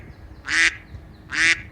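Two loud, close duck quacks from ducks beside a road in Malta's Three Cities, each a short nasal burst, spaced about a second apart over faint background noise.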